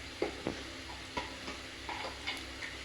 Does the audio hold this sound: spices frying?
yes